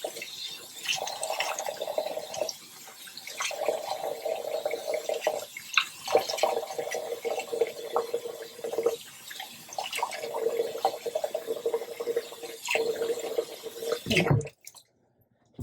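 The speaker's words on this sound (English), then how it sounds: "Rinse out your face." Face being rinsed with water at a sink during a skincare routine, with steady close splashing and dripping that carries on for about fourteen seconds before falling quiet.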